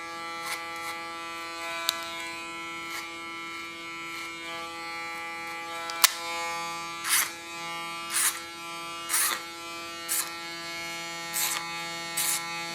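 Electric hair clippers buzz with a steady harmonic hum while cutting hair very short with the blades set to the sharpest position, with periodic louder crisp bursts as the clippers pass through the hair.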